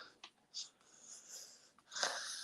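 A few short, wet nasal sniffs and snorts, close by and fairly quiet, with a longer breathy snuffle near the end.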